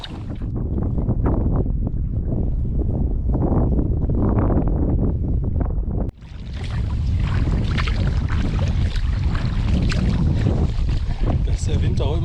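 Strong wind buffets the microphone on a kayak trip, a loud continuous roar with gusty surges, briefly dropping in the middle before rushing back.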